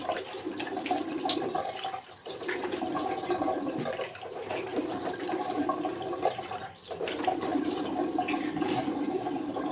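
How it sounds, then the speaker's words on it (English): Running water pours steadily in a shower as a face is rinsed with plain water, a continuous close splashing hiss with brief dips where the flow is interrupted. "I'm going to rinse my face this time around without any face wash here"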